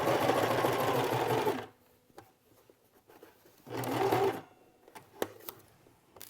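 A sewing machine runs in two bursts, stitching along a curved quilt-block seam, with a pause and small handling clicks between runs.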